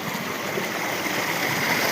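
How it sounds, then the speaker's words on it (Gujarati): A farm water pump motor runs steadily as water flows and gurgles, a continuous broadband rush like a stream that fills the whole stretch at an even level, with no voices. "તો જોઈ લો, આ મોટર ચાલુ થઈ ગઈ છે."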